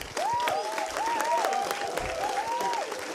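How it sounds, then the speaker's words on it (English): Applause from the audience at a medical education day ceremony for a Master of Orthopedic Surgery class of 2024, a steady wash of clapping for about three seconds with a voice sounding over it. "So a round of applause to the top scorer of Unisim Leia"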